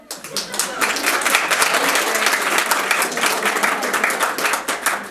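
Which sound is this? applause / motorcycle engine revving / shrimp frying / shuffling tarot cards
applause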